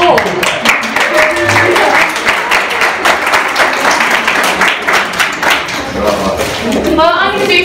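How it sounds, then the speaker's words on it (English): A live-event audience applauds together in a dense, sustained round of clapping that stays loud and steady for several seconds, with voices and cheers mixed in near the end. "give a round of applause to you all"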